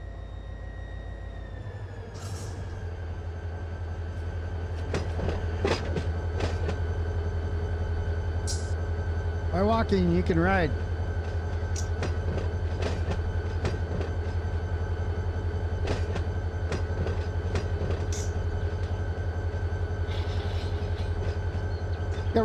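Railroad cars being switched in the Run 8 train simulator on the Los Angeles Junction Railway, with a steady low rumble of rolling stock, a brief squeal of wheels midway, and scattered clanks of couplings over a continuous drone.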